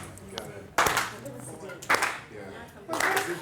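Hand claps mark out a slow rhythm track for songwriting, three sharp, separate claps about a second apart, each ringing briefly over a quiet background with a soft murmur between them.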